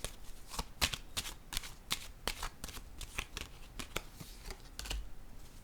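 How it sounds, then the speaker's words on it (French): Tarot cards being handled and laid down one on another, giving a close, quiet series of crisp papery slaps and flicks at irregular intervals. "Je vais déposer une autre carte sur elle."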